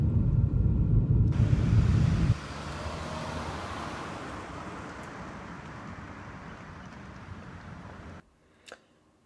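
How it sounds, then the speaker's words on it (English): A Kia Rio's engine runs steadily while driving, shortly after an ignition coil pack was replaced. A loud rumble opens the passage, then a smoother, quieter cabin drone settles in and cuts off near the end. "Driving it here, no misfires, engine's running great."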